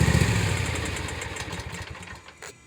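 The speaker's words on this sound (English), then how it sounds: "To simply kill the engine, to stop the mower, all you do is slide the stick to the left." A CE52T remote control lawn mower's engine is killed, its loud putter sputtering and fading out over about two seconds to near silence, with a brief clunk at the end.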